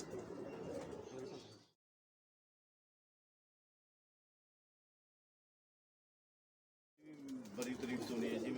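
Teddy King pigeons coo in short bursts at the start and end, separated by a long silence, with voices present alongside the birds.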